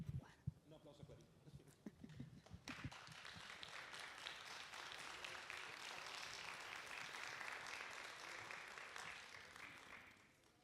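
An audience at a film festival talk applauds a filmmaker, starting after a spoken introduction and building into a sustained, dense round of clapping that fades slightly at the end.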